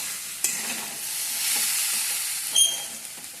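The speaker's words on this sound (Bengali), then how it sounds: "এইটা পেছনে বসতেছি ফুলকপি দিয়ে আলু দিয়ে ভাজা" Cauliflower and potatoes fry in a pan with a steady sizzling hiss, broken by a few sharp scraping knocks as a spoon stirs them. No one speaks.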